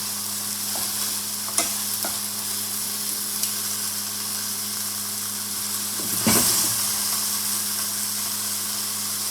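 Broccolini sizzles loudly and steadily in a hot pan, with a couple of light clicks and a brief burst of louder crackling and scraping as it is flipped.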